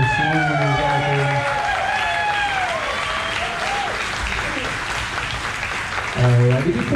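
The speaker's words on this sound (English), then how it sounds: "Make a lot of noise for our newlyweds, our bride and groom, Mr. and Mrs. Zachary Huntley." Wedding crowd at a barn venue, Adaumont Farms in Trinity, NC, applauding and cheering for the newlyweds, steady loud clapping with whoops and a voice over the top.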